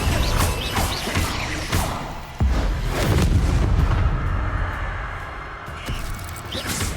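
A Confringo spell blast in Hogwarts Legacy bursts with a sharp boom, followed by crashing, rumbling combat noise and scattered impacts over several seconds.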